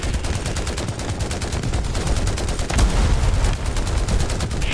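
Rapid, sustained bursts of gunfire fill a tank battle in War Thunder, a dense loud barrage with heavier blasts near the end, as a Panzer IV C closes in.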